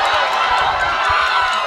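Spectators cheering at the finish of a youth nationals rowing regatta final, a loud, continuous wash of crowd noise and shouting held at full strength throughout, with no single voice standing out.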